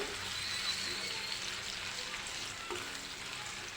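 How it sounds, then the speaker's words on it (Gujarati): Garlic and ginger sizzle steadily in hot oil, a continuous crackling hiss up close with a faint scrape of stirring. "તેલ ગરમ કરવા રાખી દીધું છે તેમાં ઝીણું સમારેલું લસણ લીધું છે"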